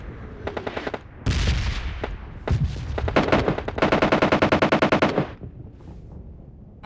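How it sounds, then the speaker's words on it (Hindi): Rapid automatic gunfire from bots in a shooter video game, several loud bursts of rattling shots with short gaps between them, ending in one long sustained volley. "तो आगे यहाँ पे जो है बोट फायर की साउंड आती है।"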